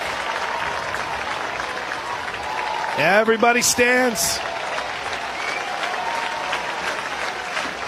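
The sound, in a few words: softball crowd clapping in unison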